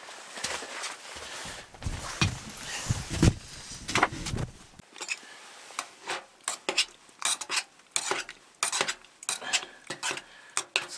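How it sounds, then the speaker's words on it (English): A spoon stirs food in a pot at a winter camp, with repeated scraping and clinking strokes that start loosely and become a quicker, sharp rhythm of metallic taps, close by. "Need a little stir, I imagine."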